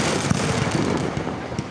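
Neighborhood Fourth of July fireworks crackle and pop continuously at a distance, a dense run of overlapping bursts with a few sharper reports standing out.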